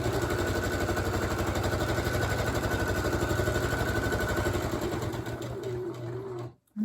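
A sewing machine stitches fabric for a three-layer protective mask, a fast steady mechanical whir with a rapid needle rhythm that runs loud and close, then cuts out abruptly near the end.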